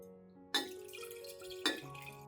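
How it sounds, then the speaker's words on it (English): Coffee water strained to remove the grounds, with two sharp drips or splashes and liquid trickling over a quiet background of tonal hum. "I will strain out the grounds and keep only the liquid."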